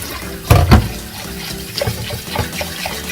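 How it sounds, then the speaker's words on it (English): Basmati rice being swished by hand in a bowl of water, with a burst of sloshing near the start followed by softer trickling and gentle stirring splashes, close up. "We just want to put our fingers in lightly and move it around so that we can wash the rice."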